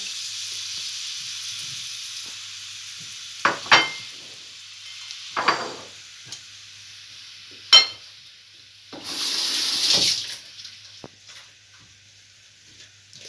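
Steady hiss of onions frying in hot oil, with a few sharp clinks and scrapes of stirring and a louder burst of sizzling partway through.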